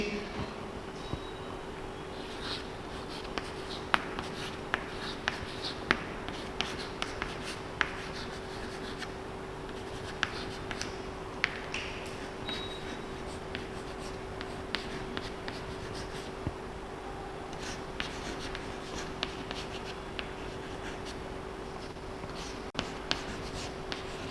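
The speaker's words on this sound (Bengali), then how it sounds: "আমি লিখে দিচ্ছি" A pen scratches steadily across paper as a history teacher writes out a note about the first Indian newspaper in class, a soft continuous scraping with small taps, heard alone over a constant electrical hum.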